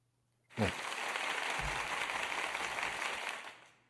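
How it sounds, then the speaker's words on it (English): Short burst of recorded applause played as a sound effect, a dense crowd clapping that starts abruptly, holds steady for about three seconds, then tapers off. "It's literally a 2-second applause."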